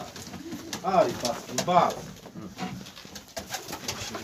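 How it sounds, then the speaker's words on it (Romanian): Pigeons coo in a loft or coop, soft throaty calls rising and falling in a few repeated bursts, close and moderately loud, while someone speaks briefly over them. "Și vreau să-ți arată porumbei."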